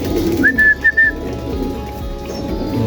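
Racing pigeons in a loft being readied for southern training flights, soft coos and a brief whistly call over a steady hum of ambient noise.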